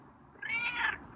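A single drawn-out meow from a feral neighborhood cat being tamed, close and clear, rising and then falling over about half a second against a quiet background.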